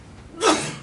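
A single sharp sneeze bursts out in a city council meeting room, a sudden loud breathy blast that trails off quickly against quiet room tone.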